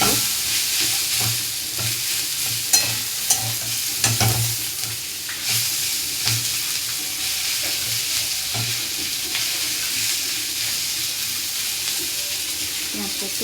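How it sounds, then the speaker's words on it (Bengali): Sliced onion frying in a pan for Bengali cooking, a steady sizzle broken by repeated scraping and clattering stirs of a spatula, close and loud throughout with no talk. "পেঁয়াজটা একটু আস্তে ভাজা একটু"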